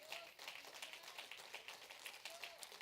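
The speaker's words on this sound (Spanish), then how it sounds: "Den un aplauso fuerte al Señor" Church congregation applauding during a Spanish-language sermon, steady dense clapping throughout, moderately faint and somewhat distant in a reverberant room.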